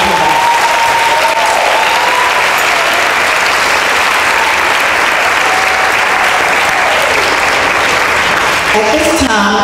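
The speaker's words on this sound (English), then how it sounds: "Let's give them a round of applause." A large convocation audience gives loud, sustained applause welcoming new college students, a thick continuous roar of clapping with faint voices and a cheer rising within it.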